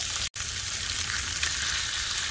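Honeycomb-cut pork belly frying in a pan at a campsite, a steady loud bright sizzle crackling continuously, with a brief cut near the start and no voices.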